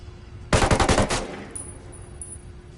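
Sustained automatic gunfire in the Ghost Recon video game, a rapid burst of shots lasting under a second that ends abruptly and leaves a faint echoing tail.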